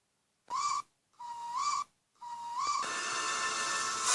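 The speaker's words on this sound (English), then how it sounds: "Rosie was relieved to hear a different whistle." A steam engine whistle sounds three times: two short, steady toots, then a third that swells into a long, breathy, hissing blast, heard fairly close in a quiet setting.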